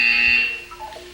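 A buzzer sounds in the Portal 2 video game: one loud, sustained electronic tone that holds for under half a second, then fades out.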